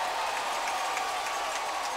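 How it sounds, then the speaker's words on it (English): Steady applause from a lacrosse arena crowd at the Mann Cup, a broad, even wash of clapping with no breaks over two seconds, moderately distant. "by the sound of the applause, the audience looks like everything's good with Thompson"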